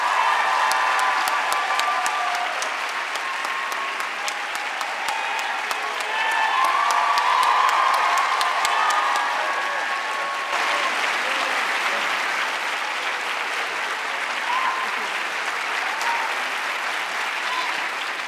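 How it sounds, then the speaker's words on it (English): A conference audience at a Michigan evening event applauds and cheers the guests, a steady, dense wash of clapping that holds loudly throughout with no talk over it. "Please give them a round of applause."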